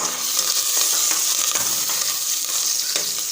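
Dried red chillies, green chilli and curry leaves tempering in hot coconut oil, giving a loud continuous sizzle and crackle close by with scraping stirring, no talk over it.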